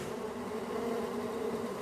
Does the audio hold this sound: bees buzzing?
yes